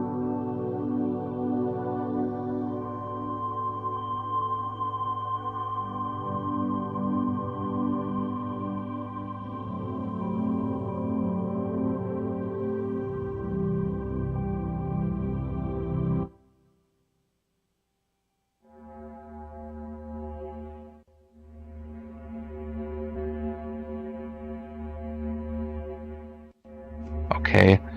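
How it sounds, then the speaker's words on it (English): An eerie, droning electronic tone made from planetary magnetic fields or radio waves hums and wavers, cuts to silence for a moment, then returns with a buzzier texture before ending in a sharp burst. "It's a translation from magnetic fields or radio waves into like a sound"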